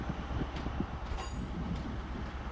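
A Great Western Railway two-car train pulls into a platform at Bristol Temple Meads, a close rumbling roll of wheels with brief metallic squeals, continuous for the whole short stretch without talk.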